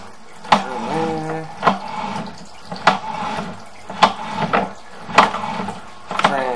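Water runs through a sewer line while a camera crawls inside, giving a steady flowing rush broken by sharp, regular knocks and clunks roughly every second, with a short whining tone near the start.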